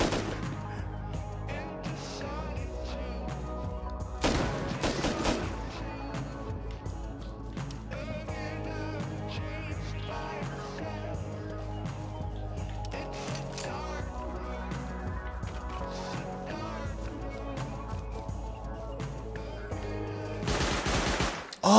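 An automated gun turret in Rust Console Edition fires rapid bursts, loudest near the start and again at the very end, over a steady busy game background, with some talk.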